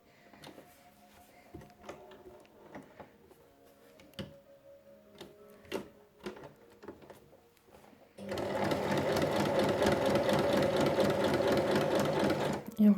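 Sewing machine stitching the corner of a fabric pouch, first scattered clicks and handling of fabric, then a loud steady rapid mechanical whir running for several seconds, close up.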